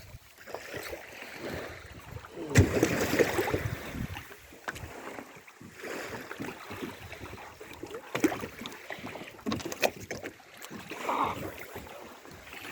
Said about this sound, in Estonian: Ja kohe tuleb teine paat.